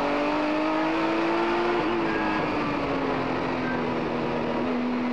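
BMW M1 Procar race cars battling on track, loud sustained engine roar with a rising and falling pitched tone as the cars hold speed past, continuous and fairly close.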